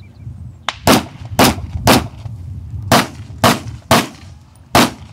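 Gunfire at an outdoor shooting range during a timed course of fire: eight loud, sharp shots ring out in quick succession, spaced roughly half a second apart, with no talking between them.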